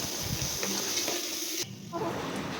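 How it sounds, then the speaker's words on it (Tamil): Onions with ginger garlic paste sautéing in a pan for chicken thanni kulambu, a steady close sizzle with scraping stirs, briefly dropping quieter before the frying noise resumes. "இஞ்சி பூண்டு பேஸ்ட்டோட பச்சை வாசம் போகிற அளவுக்கு நல்லா வதக்கிக்கோங்க"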